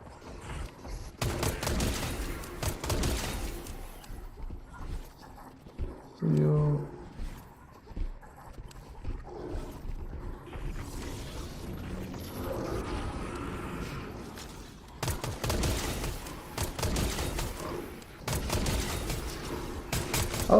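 Fortnite gunfire crackles in rapid bursts and volleys across a busy firefight, with stretches of dense shooting and brief pauses, mixed with game effects and a voice.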